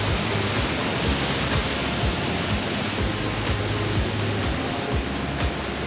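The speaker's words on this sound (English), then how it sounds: "We're doing the waterfall." Steady, dense roar of a rushing waterfall on the Big Island of Hawaii, continuous and fairly loud throughout with no voices.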